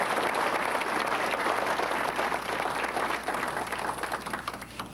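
Guests at an anniversary ceremony for the Pohang YMCA applaud, a dense, even burst of many hands clapping that carries on steadily and eases off slightly toward the end.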